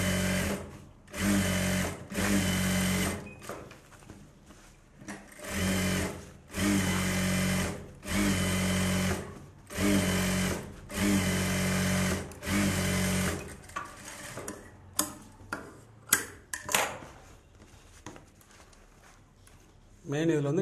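A sewing machine edge-stitching a Bharatanatyam dance dress, running in repeated bursts of about a second each with short pauses between, then breaking into shorter, irregular runs near the end.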